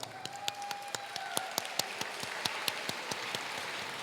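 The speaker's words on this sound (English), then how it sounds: "Let's give Min Jung Kim a round of applause." An audience at an Asian anniversary gala in St. Louis claps for keynote speaker Min Jung Kim, a moderate steady patter of many hands with sharper individual claps standing out above it.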